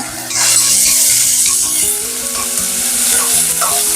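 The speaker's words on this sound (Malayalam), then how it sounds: "ഇഞ്ചി വെളുത്തുള്ളി ഒന്ന് ചെറുതായിട്ട് മൂത്ത് തുടങ്ങുമ്പോൾ തന്നെ നമുക്ക് ചേർത്ത് കൊടുക്കാം." Whole spices with crushed ginger and garlic fry in hot oil in a pan, a close, steady sizzle throughout with the soft scrape of stirring.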